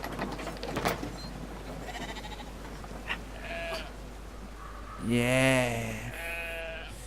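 A sheep in the video game Brothers: A Tale of Two Sons gives a clear, wavering bleat near the end over a low steady game hum, after quieter ambient sounds and a brief spoken word.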